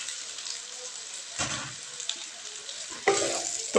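Potatoes sizzling in hot oil alongside already-fried taro root, a steady frying hiss with a couple of louder bursts as pieces are stirred or added.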